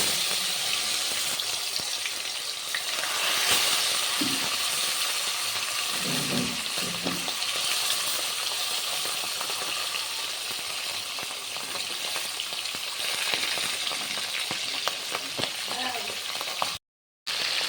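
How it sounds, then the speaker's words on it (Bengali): Fish, a Bengali kitchen catch for a spicy curry, sizzles loudly and continuously in hot salted oil, a dense steady frying hiss with a few brief clatters and a short break near the end. "মাছগুলো ভাজার জন্য দিয়ে দিচ্ছি"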